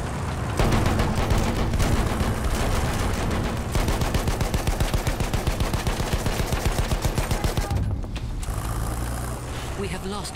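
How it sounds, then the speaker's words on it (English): Battlefield 1 machine gun fire on the Amiens map rattles in a long, rapid, evenly pulsed burst amid heavy battle noise, with brief muffled gaps before and after. "Enemy machine gun!"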